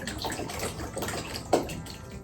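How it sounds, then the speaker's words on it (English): Bathtub faucet sputtering and gurgling water several minutes after the tub has finished filling, a close, irregular splashy rush with a brief louder burst midway, no talking. "The faucet likes to barf like 10 minutes after you finish filling."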